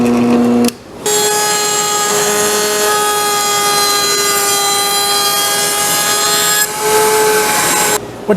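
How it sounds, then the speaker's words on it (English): A power tool, likely a router, rounds over the edges of a wooden frame for a Shaker-style work table, running loud and steady with a high whine for about six seconds between brief pauses. "What you just saw me doing is rounding over the edges of the frame here"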